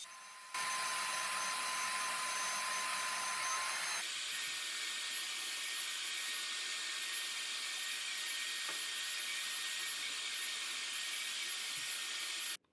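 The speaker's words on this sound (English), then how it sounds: "First I'm going to be spraying a primer, and then it's going to be 3 additional coats of white paint." A paint sprayer applying primer to a sanded wooden dog gate, a loud continuous airy hiss that starts abruptly, shifts tone partway through and runs steadily until cutting off.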